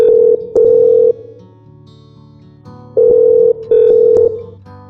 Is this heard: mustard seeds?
no